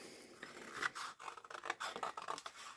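Scissors snip through paper while pieces are trimmed for a botanical trifold junk journal folio, a quick run of close, crisp cutting and scraping strokes with short pauses between them.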